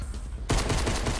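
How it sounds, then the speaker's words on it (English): Sustained burst of gunfire in the battle royale game Fortnite, starting abruptly and running as a dense, loud volley of rapid shots with no talk over it. "he's still shooting at the fucking thing"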